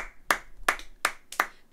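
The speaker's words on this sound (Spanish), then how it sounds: "Chicos, un aplauso." Hands clap five times at an even pace, close and crisp, with no talk over them.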